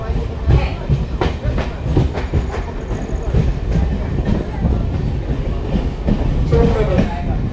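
A MEMU passenger train runs between Katni and Chirmiri, its wheels clattering rhythmically over rail joints. The noise stays loud and steady from inside the carriage, under onboard announcements and passenger chatter.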